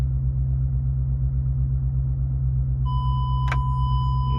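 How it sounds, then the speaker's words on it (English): A loud, steady electronic beep from a Ford F-150's dashboard starts partway through and holds without a break over a constant idling engine rumble. "it's gonna make a really, really loud beeping sound"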